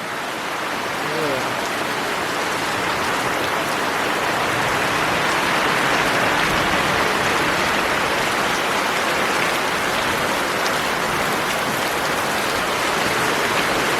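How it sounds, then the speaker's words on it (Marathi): A heavy unseasonal rain shower in the Konkan countryside, a dense, loud, unbroken roar of rain pounding surfaces, steady for the whole stretch. "एक सर जाते ना जाते तर बघा आता दुसऱ्या दुसरी सर जोरात आली आहे"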